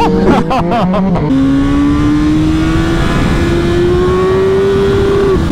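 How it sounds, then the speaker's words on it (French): A BMW S1000R motorcycle engine screams at a steady high pitch after a few sharp revs, holding at the rev limiter with a slowly rising whine, loud and close. "le son du rupteur"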